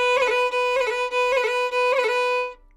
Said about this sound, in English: A roll played up to speed sounds like this.